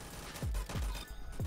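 Rapid bursts of gunfire from Roblox Arsenal, a handful of punchy low-end shots thumping close and loud over a steady game background, with no talk.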